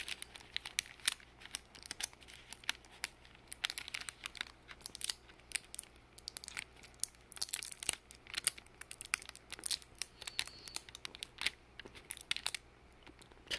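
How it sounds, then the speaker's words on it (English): An adhesive Bible tab peeled slowly off a page, heard as a faint, steady run of tiny crackling ticks and crinkles, close and quiet. "make sure you peel it slowly."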